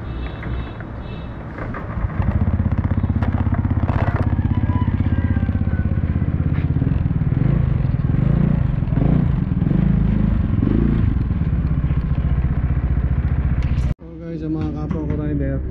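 A Honda Beat FI scooter engine starts after a crankcase bearing replacement, then idles with a loud, close, steady buzzing rumble and some mechanical clatter before cutting off abruptly near the end, with someone speaking briefly.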